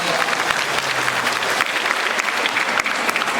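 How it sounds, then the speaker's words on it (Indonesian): Applause from a congregation at an Islamic religious lecture, a steady dense clapping that fills the whole stretch at close range. "Ya, tepuk tangan dong."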